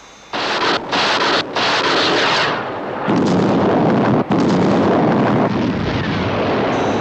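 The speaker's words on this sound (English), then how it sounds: "Visual contact with explosion. Detonation positive." A missile detonation explosion in a UFO television episode erupts as a loud, sustained rumbling roar, with sharp cuts and a heavier surge of blast noise midway that continues to the end, no voices.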